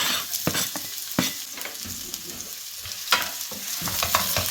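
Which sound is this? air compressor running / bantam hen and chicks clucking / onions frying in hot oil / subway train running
onions frying in hot oil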